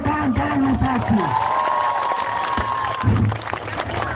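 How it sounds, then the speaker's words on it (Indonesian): A crowd at a labor rally in Cimahi claps and cheers, with scattered whoops over loud crowd noise, while a voice speaks through a loudspeaker over the applause. "sekali lagi tepuk tangan untuk seluruh kawan-kawan yang sakit"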